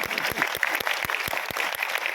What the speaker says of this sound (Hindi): इतनी कम ताली पटेल पर